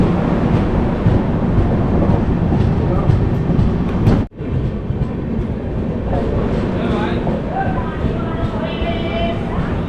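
The Navjeevan Express moves out of a station, with a steady loud rumble of wheels and rolling carriages filling the whole stretch, a brief dropout partway through, and people talking over the train noise.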